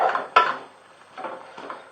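A spoon stirs chicken, bacon and peas in a pot, making a few close, short scraping knocks: one sharp clatter early on, then two softer scrapes.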